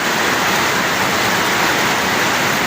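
Heavy rain pours steadily in the Zambales area near the sea, a dense, loud, unbroken hiss of downpour with no other sounds.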